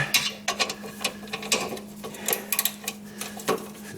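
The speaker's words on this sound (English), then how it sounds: "then we put a wrench on it" Ratcheting wrench clicks in short repeated bursts as a bolt is loosened on the wheel of a wrecked 2009 Harley-Davidson motorcycle, with a steady low hum underneath and no talking.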